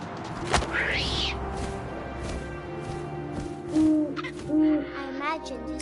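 A few soft owl hoots sound in the game What Remains of Edith Finch, over a quiet airy background with a sharp knock early on and a brief rising cry.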